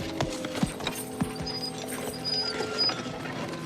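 Faint hooves clip-clop on hard ground amid a busy outdoor bustle, a few irregular thuds under a steady background hum.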